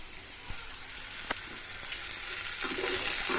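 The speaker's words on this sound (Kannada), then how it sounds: "ಆನಿಯನ್ ಈರುಳ್ಳಿ ಫ್ರೈ ಮಾಡ್ತಾ ಇದ್ದೀವಿ" Chopped onions frying in a pan for onion chitranna rice, a steady soft sizzle with a few faint clinks of stirring, fairly quiet and close, no talk.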